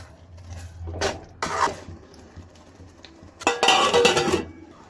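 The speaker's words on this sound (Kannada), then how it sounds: "ಟೊಮೆಟೊನಲ್ಲಿರೋ ನೀರಿನ ಅಂಶ ಹೋಗೋ ತನಕ ಇದನ್ನು ಚೆನ್ನಾಗಿ ಫ್ರೈ ಮಾಡ್ಕೊಳ್ಳೋಣ." Tomato puree frying and being stirred in a pan for hotel-style chicken gravy: a few short bursts of spoon clatter and scraping against the pan over a low, steady background hum, with no voices.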